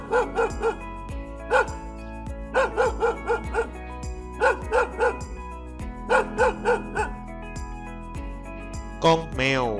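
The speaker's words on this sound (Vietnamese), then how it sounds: "Con chó." A farm dog barks in short bursts of two or three yips, repeated through the clip against steady background music, with a whimpering whine near the end.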